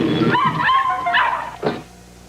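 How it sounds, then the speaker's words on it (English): A dog gives short yips and whimpering whines, close and fairly loud, ending in a sharp bark-like yelp before a quiet tail. "Crazy dog."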